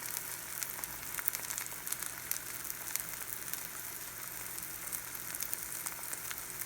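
A cheesy omelette frying in a pan, giving off a faint, steady sizzle with light crackles that goes on without a break.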